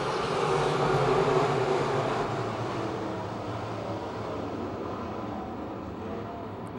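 Sportsman race cars roar around a speedway under green-flag racing, a dense, steady engine drone that rises slightly then holds at a constant loud level with no voices.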